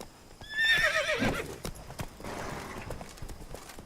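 In the video game The Witcher 3, a horse whinnies loudly, then hooves clip-clop in a steady trotting rhythm at close range.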